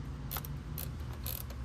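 Airsoft Scar-L gearbox cycling sluggishly, giving a continuous mechanical whirr with a few sharp clicks scattered through it, close and moderately loud.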